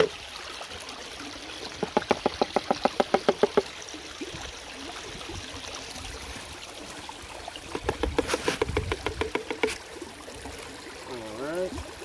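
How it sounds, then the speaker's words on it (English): Water swishes and trickles through a gold prospecting sluice being rinsed outdoors, with soft, uneven splashing and bursts of rapid rattling and sloshing at a modest, fairly close level. "Let's rinse this out a little bit."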